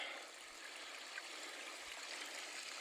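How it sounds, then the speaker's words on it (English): Steady broadband rush of a mountain stream on the Appalachian Trail near Grayson Highlands, continuous and fairly close, with no voices over the flowing water. "we're going to do a quick little stop here at the stream."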